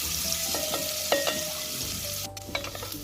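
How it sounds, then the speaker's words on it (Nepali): Chicken pulao ingredients lightly frying in a pan, with soft sizzling under repeated clinks and scrapes of a spoon stirring, close and steady. "हल्का भुट्ने हो, धेरै भुटिराख्नु चाहिँ पर्दैन।"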